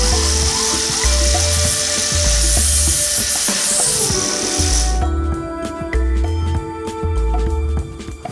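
A power tool grinds the corner of a welded steel carport frame, a loud continuous whine with rattling that drops in pitch and intensity partway through, then keeps buzzing steadily.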